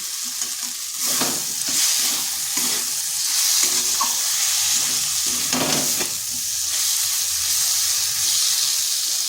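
Chopped tomato sizzles and fries steadily in a pan with okra and eggs, a continuous close hiss broken by a few louder stirring scrapes, with no voices.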